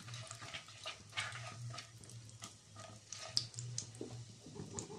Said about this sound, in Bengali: দারচিনি দিয়ে দিয়েছি 3-4 কুঁচো ও ছোট এলাচ 4-5টা দিয়ে দিয়েছি। দিয়ে এটা ভালো করে একটু ভেজে নিতে হবে।